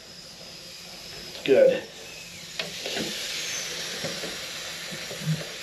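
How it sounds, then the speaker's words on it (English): A garment steamer hisses steam onto the heel of a guitar neck during a difficult neck removal, a steady close hiss with a brief louder gurgle, while someone speaks a word. "I have some steam right there at the bottom of the heel"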